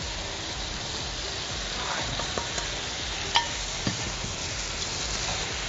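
Sauce poured into a hot iron frying pan over high heat, giving a steady sizzle and bubbling hiss with a few faint clinks, sounding close and continuous with no talk.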